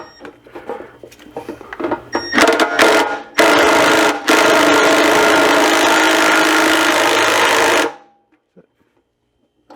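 An impact wrench cranks a Dodge 417 stroker engine over to test a newly installed oil pump, a loud sustained buzzing rattle in bursts that ends abruptly into quiet.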